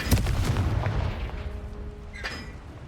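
A Confringo fire spell explodes in the video game Hogwarts Legacy, a sharp booming blast followed by a fading rumble and a brief bright chime.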